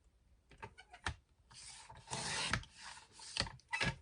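Paper is cut for a homemade recycled notepad, with a series of close rasping, rubbing strokes and scraping sweeps that rise and fall in short bursts. The handling is quiet and there are no voices.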